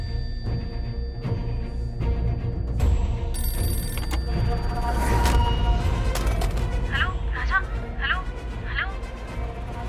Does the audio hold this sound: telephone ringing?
yes